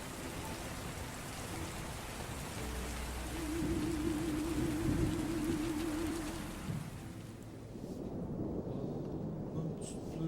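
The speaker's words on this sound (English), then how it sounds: "The rain continued fiercely." Steady rain pours hard in a game scene, a dense continuous hiss that swells through the middle and eases slightly near the end, with a low wavering hum partway through.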